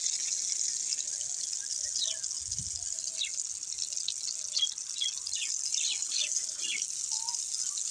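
Water from a submersible pump streams steadily onto vegetables planted on a pond bank, a constant hissing splash that fills the whole stretch at moderate loudness with small gurgles and drips.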